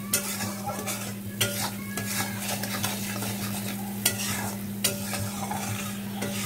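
Spiced Bengali rui fish curry sautéing in a pan, a constant sizzle and fry with a spoon scraping and clinking against the pan in irregular strokes, close up and without speech, over a steady low hum.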